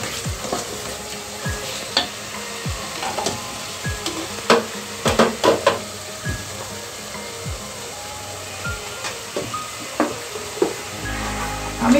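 Vegetables go into a pan of well-fried sizzling masala for a vegetable biryani and are stirred. A steady, close sizzle runs throughout, broken by frequent sharp scrapes and clinks from the spoon against the pan.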